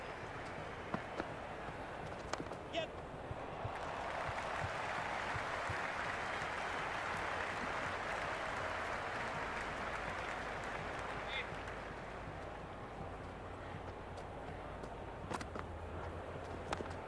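A stadium crowd applauds and roars in the Cricket 26 video game during a Big Bash League match, a broad, steady wash of clapping that swells mid-clip under a commentator's voice.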